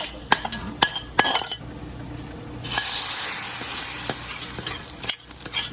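Fried tempered onions tipped into a pot of lentil curry for Madurai-style paruppu kuzhambu set off a sudden loud sizzle and hiss that lasts about two seconds, with metal utensil clinks before it and stirring scrapes throughout.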